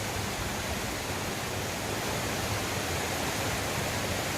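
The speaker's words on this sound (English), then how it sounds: "going up and down these mountains just to look for this waterfall" A mountain waterfall in Italy gives a steady, even roar of rushing water, constant and unbroken from start to end with no voices.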